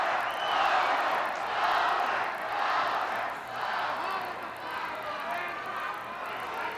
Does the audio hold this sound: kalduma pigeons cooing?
no